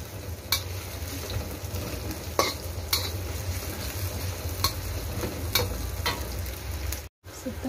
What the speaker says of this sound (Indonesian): Tumis dulu bawang merahnya. Apinya saya gedein.